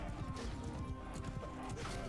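Horse hooves clatter in a steady, dense rhythm during a cavalry charge in Bannerlord, a medieval combat video game, with busy battle noise layered around them at close range.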